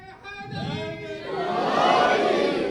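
A crowd at a Shia majlis on 9 Safar raises a religious slogan (nara) together, a swelling mass of voices that builds from a few calls into a broad, sustained collective shout.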